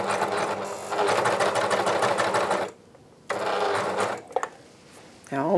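A Janome 134D serger runs in fast, steady bursts with a rapid mechanical chatter, pausing briefly before starting again, loud and close, with a voice talking over it.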